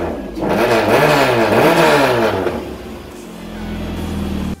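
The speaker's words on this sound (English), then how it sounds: "the car runs, turbo is spooling, which is good." A turbocharged car engine, newly swapped and running without intercooler pipes, revs up loudly and rises in pitch, then settles back toward idle. A soft turbo whir rides above the engine note throughout, with no talk.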